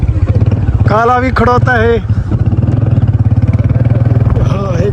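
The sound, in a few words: motorcycle riding through a street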